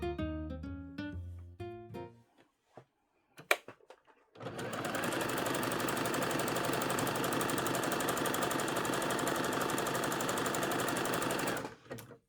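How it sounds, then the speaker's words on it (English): A sewing machine runs steadily for about eight seconds, stitching the side seams of a glittery bodice, after a few brief clicks and tones at the start. "we're going to sew these side seams together"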